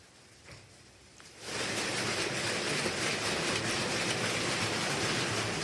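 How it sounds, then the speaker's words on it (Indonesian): Gravel-sized hailstones fall on the slope of Mount Merapi, a loud dense clatter that begins abruptly after a quieter opening second and then continues steadily without talk. "hujan es sebesar kerikil berjatuhan dari langit"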